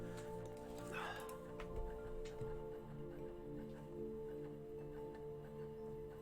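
A dog gives a short yip and a thin whimper near the start, faint over a steady background hum and music-like tones.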